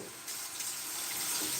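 Tap water running steadily into a container while measuring two cups for tomato sauce, a continuous close hiss and splash with no speech.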